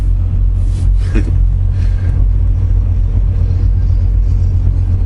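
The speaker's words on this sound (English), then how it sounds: "Here comes a pink truck." A pink truck drives past on a road, a deep continuous rumble of engine and tyres that swells briefly then holds steady, loud and close, with no voices.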